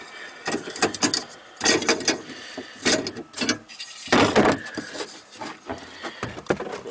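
Carpet liner pulled out of the trunk of a 2013 Camaro, giving a run of close, loud rustling and scraping bursts with brief rhythmic pauses between tugs.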